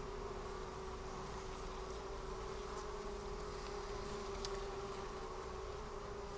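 A hive frame full of bees gives off a continuous low, steady buzz at close range, unbroken and without talk.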